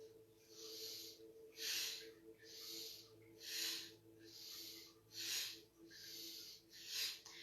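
Slow, deep belly breaths repeat about every second during an exercise class, soft rhythmic inhales and exhales close to the microphone over a faint steady hum.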